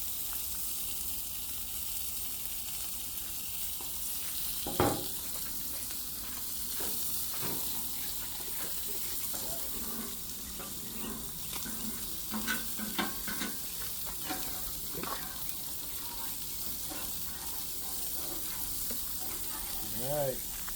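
Meat fries in bacon grease on a Blackstone griddle, a soft, steady sizzle with scattered crackles and a few scraping clanks, fairly faint, with low murmuring voices now and then.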